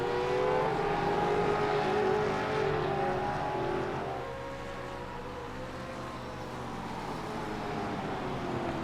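Supercars Gen3 race car engines in a racing game during green flag racing at Richmond, a steady droning roar of several cars with shifting engine pitch, continuous and moderately loud, no voices.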